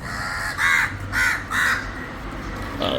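Crows waiting to be fed crushed biscuits outside a shop give three loud, close caws in even succession, with a fainter call at the end.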